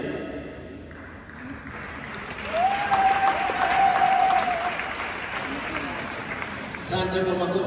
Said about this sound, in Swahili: Asante kwa makofi hayo.